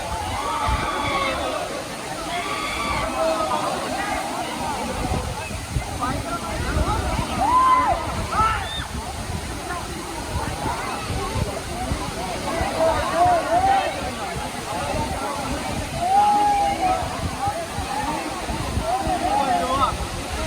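Water from the 300-foot Agaya Gangai waterfall pours down as a steady, broad rushing roar that fills the whole scene, with people talking over it.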